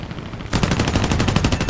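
Machine guns of a P-40F-10 fighter in War Thunder air combat, a loud rapid burst of automatic fire that begins abruptly after a brief lull and rattles on continuously to the end.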